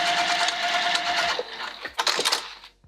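A sewing machine stitches a seam on vinyl for a bag, running in a fast steady whir, pausing briefly, then buzzing again in short bursts before stopping.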